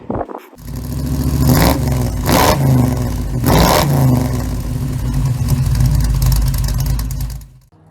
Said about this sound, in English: I've now connected an air pipe from the compressor to the tank. So let's see how it handles itself under pressure.